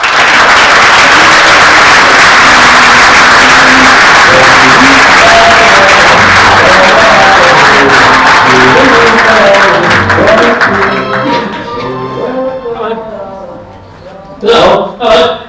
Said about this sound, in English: at least expect the clap to continue till I get on stage